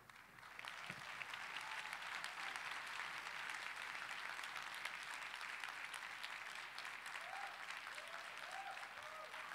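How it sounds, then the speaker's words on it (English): An audience applauds at a Democratic National Committee general session, a dense, continuous wash of clapping from a large crowd that holds steady throughout, heard from a distance and fairly faint. "Let's give a round of applause for our guests today"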